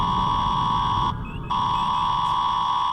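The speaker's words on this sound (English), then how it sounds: "Turn the alarms off. You can't hear yourself speaking here." Steady loud electronic alarm tones blare aboard a spaceship after an impact, a continuous pitched beep that cuts out briefly and then resumes.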